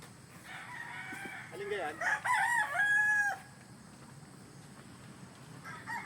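A rooster crows loudly and close by in a stag game-fowl farm's tethering area, one drawn-out call in the middle of the clip, with a person briefly speaking before it and faint outdoor background throughout.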